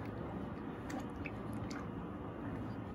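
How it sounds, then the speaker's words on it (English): A pair of jeans is pushed down and agitated in an indigo dye bath, giving faint, soft liquid squishes and small drips, quiet and close with no talk. "now I'm gonna dip these jeans. Going to try to just keep them down and agitate them"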